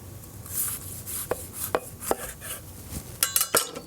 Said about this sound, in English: I'm looking for about 4 equal steaks, so I'll start in the middle. Cut one more out of each.